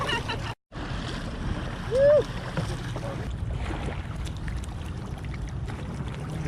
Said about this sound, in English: Now we can paddle on both sides.